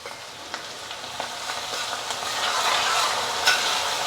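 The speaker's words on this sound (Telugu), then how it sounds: "ఆవాలు ఎప్పుడు చిట్టపట అంటేనే భలే స్మెల్ వస్తుంది" Mustard seeds and curry leaves crackle in hot oil during tempering for a drumstick pickle, a steady near sizzle scattered with sharp pops that grows slightly louder toward the end.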